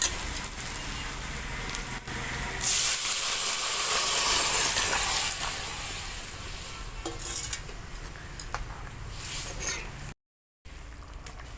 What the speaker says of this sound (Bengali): একটু নেড়ে চেড়ে ডালটা ঢেলে দেবো